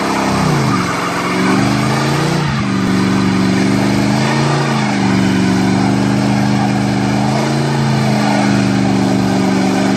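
A Plymouth Superbird's 426 Hemi V8 rumbles loud and close, its deep burbling note swelling and dipping through several blips of the throttle without any voices.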